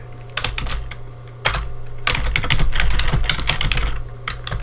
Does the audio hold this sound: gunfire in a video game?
no